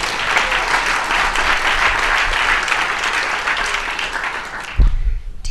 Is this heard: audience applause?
yes